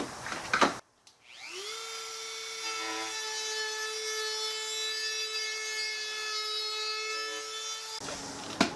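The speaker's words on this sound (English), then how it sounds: "now I can use my Dremel with a sanding bit to just sand around the edges" A Dremel rotary tool with a sanding bit spins up and whines steadily at high pitch, grinding as it sands the edges of a garden decoration, close and continuous for several seconds before cutting off.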